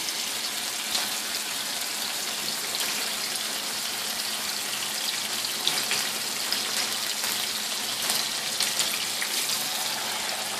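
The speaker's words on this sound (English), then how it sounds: "I put my water in." Water pouring steadily into a cooking pot for a stew of cubed chicken, a continuous broadband splashing rush lasting throughout, close and fairly loud with no talking.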